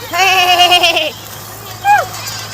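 Goats grazing in a soybean field give a loud, long wavering bleat, then after a short pause a second, shorter bleat, close to the listener in open air.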